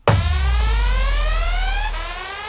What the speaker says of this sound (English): which has got the big siren noise on there.